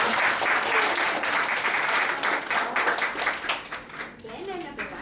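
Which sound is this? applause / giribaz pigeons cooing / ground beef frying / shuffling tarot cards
applause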